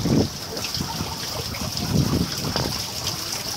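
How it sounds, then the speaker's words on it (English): Heavy rain drains into a covered storm drain pipe during a windy storm. Water rushes and trickles steadily nearby, forming a constant wet roar with small splashes and no speech. "once again there's a heavy rain"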